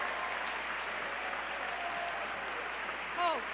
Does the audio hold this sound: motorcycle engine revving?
no